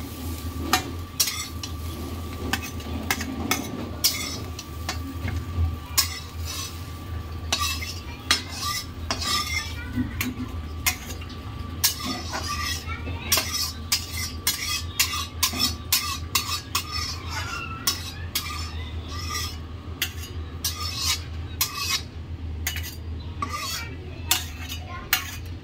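Fried pointed gourd being lifted out of a pan onto a plate, with steady quick scraping and clinking of a metal utensil against the cookware over a soft sizzle, close and fairly quiet.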